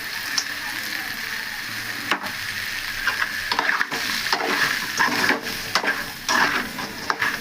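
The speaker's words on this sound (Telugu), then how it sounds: "ఇవి సిమ్లో పెట్టి మంచిగా ఫ్రై చేసుకోవాలండి" Drumsticks sizzle and fry in a pan on low heat, with a steady crackle broken by several sharp scraping clatters as they are stirred.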